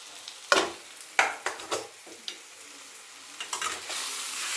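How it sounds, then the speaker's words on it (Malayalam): Turmeric, chilli powder and garam masala sizzle and crackle in a hot pan for egg roast, stirred with a few sharp scrapes and clinks of a spoon, close and fairly quiet. "ഇത് നന്നായിട്ട് വീണ്ടും വറുത്ത് എടുക്കണം."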